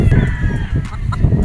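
Gamecocks sheltering in their coop on a hot late morning give short clucks and rustling fowl sounds, close and fairly loud, over steady outdoor background noise.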